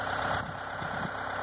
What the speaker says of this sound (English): So I'm going to get in the tractor here and we're going to get this going.